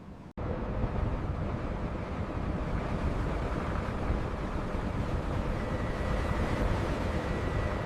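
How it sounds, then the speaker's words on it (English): Steady, roaring wind buffets the microphone without letup after a brief opening click, a dense rushing noise with no voices, at the Panama Canal expansion. "The gusts are exceeding the threshold."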